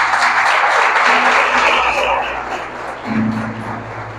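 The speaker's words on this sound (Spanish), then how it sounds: "Denle un aplauso al Señor." A church congregation applauds during a lively service, a broad roar of clapping that swells and then eases, with low musical tones and background hum underneath.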